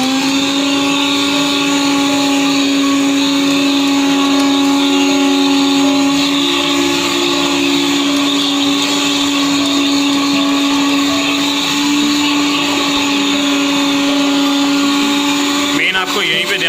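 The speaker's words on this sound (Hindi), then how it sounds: "वैक्यूम का बटन ऑन करेंगे।" A vacuum unit on an atta chakki flour mill hums loudly and steadily once switched on, a constant motor drone with a strong steady pitch that runs throughout with little change.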